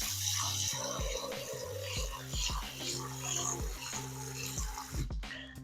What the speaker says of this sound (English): we're gonna rinse it under the tap.